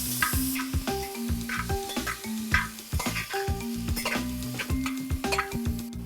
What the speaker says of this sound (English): So now we'll add the potatoes. So I've taken 2 medium potatoes. We'll fry these as well for another 2 to 3 minutes.